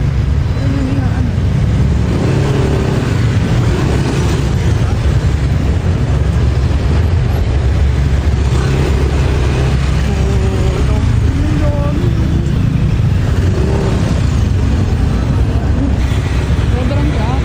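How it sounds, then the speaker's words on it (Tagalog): Heavy road traffic with engines rumbling in a constant loud, dense roar, horns and motor whines cutting through now and then while people talk underneath. "Sobrang traffic."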